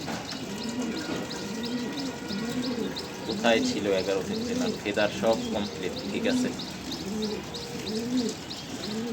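Racing pigeons coo in a steady repeating rhythm close by, a restless male among them, while someone talks over the birds partway through.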